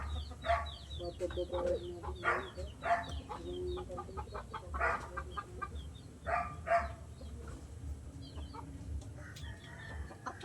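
Chickens clucking and squawking nearby in short repeated bursts, with a rooster-like call and faint background murmur.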